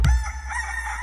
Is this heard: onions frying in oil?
no